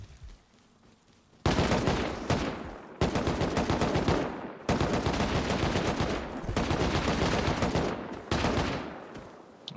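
Bursts of rapid automatic gunfire with explosive bullets hit a turret in a video game, loud sustained volleys in four long runs separated by brief pauses.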